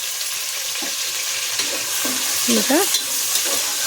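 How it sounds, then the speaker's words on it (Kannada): Two large chopped onions fry in oil with a bright steady sizzle and a few scraping stirs, close and clear, while a voice speaks briefly at the start. "ಅದನ್ನು ಎಣ್ಣೆಯಲ್ಲಿ ಚೆನ್ನಾಗಿ ಫ್ರೈ ಮಾಡ್ಕೊಬೇಕು."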